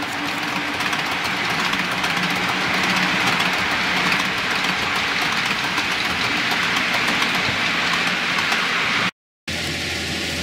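A model railway train runs on its track, giving a continuous loud mechanical whir and rattle with a faint rhythmic clatter, broken by a brief cut near the end.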